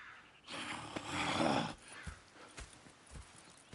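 Horse hooves clip-clopping in the Red Dead video game, a soft blowing burst followed by scattered, faint hoof thuds at an uneven pace, quiet and alone.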